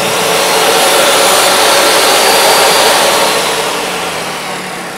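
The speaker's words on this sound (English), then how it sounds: "I'm going to take a little short piece here, just some scrap, and I'm going to cut it right where I've set that stop block at 6 inches" A jobsite table saw runs loud and close as scrap wood is fed through on a crosscut sled, one steady whining cut that swells and then slowly tapers, with no talking.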